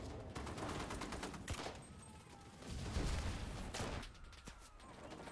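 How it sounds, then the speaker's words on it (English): Impact grenade blasts and gunfire in the World War II shooter Enlisted, a cluster of sharp bangs and booming bursts over a continuous battle din. "we're just getting blown up by impact grenades"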